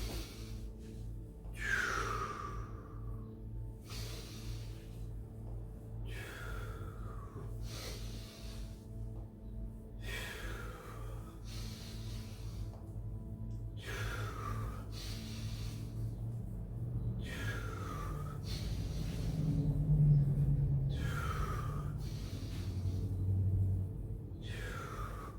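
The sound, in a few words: breathing in and out during energy exercise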